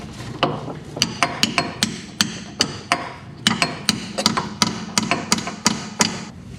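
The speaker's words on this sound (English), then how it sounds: "I just had to hammer because it's pressed against the flex disc." Sharp metal hammer blows strike a Mercedes rear differential close to the flex disc, about two dozen ringing hits in an uneven rhythm, loud and close, with no talking.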